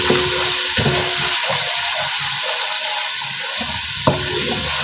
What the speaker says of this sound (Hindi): वन टेबल स्पून इसमें अदरक लहसुन का पेस्ट डालूंगी और उसको भी अच्छी तरह से, ये देखें, पहले इसका कच्चापन ख़त्म कर देंगे।